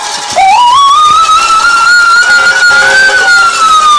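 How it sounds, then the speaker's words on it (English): Fans blow horns and sirens in the stands at a high school football game. A loud, rising siren wail climbs and holds steady, with several other tones layered over the crowd noise. "And there's all the horns again. Here are the horns. Horns, sirens, bells, you name it."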